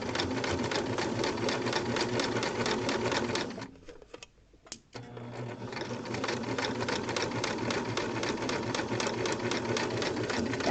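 A sewing machine back-stitches fabric for a pocket, its needle chattering in a steady fast rhythm, close and loud, pausing briefly for about a second midway before resuming.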